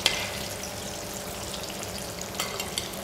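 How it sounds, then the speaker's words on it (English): Plantain slices fry in oil in a frying pan over medium heat, giving a steady soft sizzle with a few light crackles, close and continuous. "you're just frying it under medium heat"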